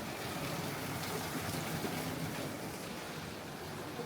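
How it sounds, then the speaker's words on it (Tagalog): Rain falls steadily over Taytay, Philippines, a constant even hiss of moderate loudness without breaks, and no one speaks. "It's kind of raining dito ngayon sa Taytay."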